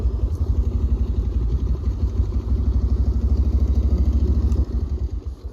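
A motorbike engine idles close by with a steady low, pulsing throb and clattering rhythm, loud and continuous throughout, with no talk over it.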